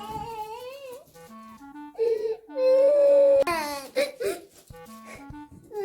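A young girl cries and sobs loudly in bursts, her wails rising and breaking over about six seconds, close to the listener, with no other voices heard.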